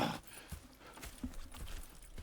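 Horse hooves clip-clop at an unhurried walking pace in the open-world western game Red Dead Redemption 2, a steady series of soft, fairly close footfalls with no talk over them.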